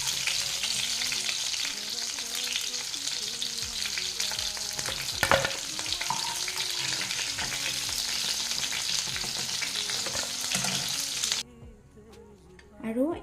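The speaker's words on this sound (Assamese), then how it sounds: "আৰু একেই পদ্ধতিতে মই বাকী থকা চিকেনখিনিও ধুনীয়াকৈ ভাজি লওঁ।" Chicken pieces for chilli chicken fry in hot oil with a steady, close sizzle and occasional stirring clatter, continuing for about eleven seconds before dropping away to near quiet.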